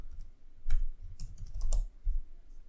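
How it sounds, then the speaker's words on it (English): Quick, light taps on a computer keyboard as text is typed, a short uneven burst of clicks heard close and fairly quiet, with no speech. "And let's type some text."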